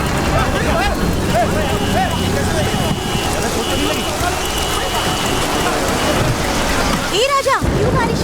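Steady rain hisses throughout, with voices and harmonic chatter over it and a short sweeping tone near the end.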